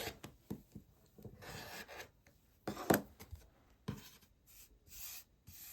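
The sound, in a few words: cutting off the sides of quilt fabric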